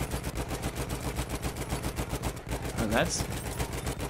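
A mounted turret machine gun in the WWI shooter Battlefield 1 hammers out a long, rapid, evenly spaced stream of shots, loud and close, while someone talks briefly over it.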